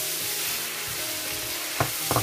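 Spicy braised pork frying in a pan, stirred with a utensil: a loud continuous sizzle with scraping stir strokes and a couple of sharp knocks near the end, close and without talking.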